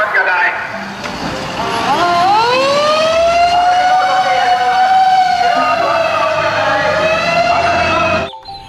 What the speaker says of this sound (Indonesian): Di sini ada pemadam kebakaran.